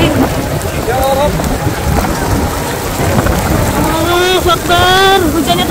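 Heavy rain pours steadily during a storm at Masjidil Haram, a loud dense wash that fills the whole clip, while people's voices rise over it.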